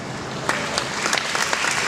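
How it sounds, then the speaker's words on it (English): Audience at a championship ceremony speech claps in a steady round of applause, a few sharper individual claps popping above the even wash of hands. "please give me a round of applause to Mr. Stephen Chi."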